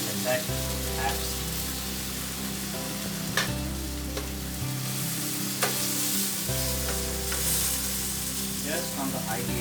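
Tomato halves frying in a hot pan on high heat for a sweet corn frittata, a steady close sizzle with a few sharp crackles and spits, and a low hum running underneath.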